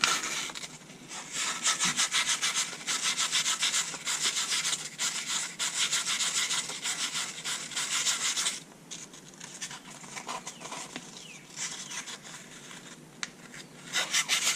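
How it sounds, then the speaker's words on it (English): Close, steady rasping as sandpaper is rubbed back and forth on the tip of a clutch actuator part. The strokes are loud and continuous, with one brief lighter stretch partway through and no talk. "so I'll just sand on that tip"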